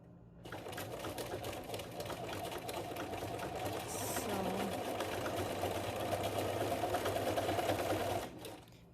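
A sewing machine runs a zigzag stitch on a fabric face mask with a steady, close mechanical whir that starts, holds for about eight seconds and then stops.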